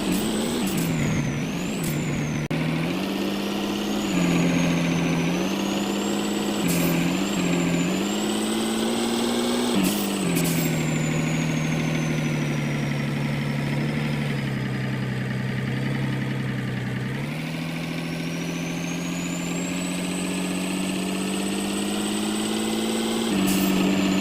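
A heavy truck engine in a delivery video game drones steadily while hauling a tractor, its pitch rising and falling with gear changes, with short hissing air-brake bursts now and then.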